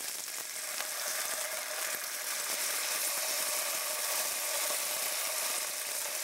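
Lamb chops fry in a pan and are moved around, making a close, continuous crackling sizzle with faint scraping.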